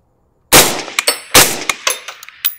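A rifle fitted with a low back pressure suppressor fires two loud, sharp shots close by, a short moment apart. Each shot is followed by bright metallic ringing and smaller clanking echoes that fade out.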